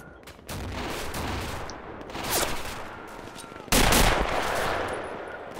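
Machine gun fire in the video game Red Orchestra during a multiplayer battle, continuous rattling bursts with louder shots joining near the end, mixed with battlefield noise.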